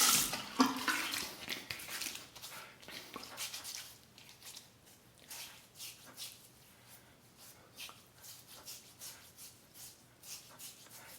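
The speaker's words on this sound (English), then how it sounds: "let's rinse that" A safety razor is rinsed under running tap water, a splashy burst of flow at first, then quieter intermittent trickles and taps close by.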